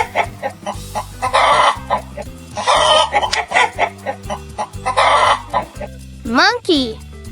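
Chicken clucking in a run of repeated clucks and short squawks over steady background music, fairly loud and close, with a brief rising bird-like call near the end.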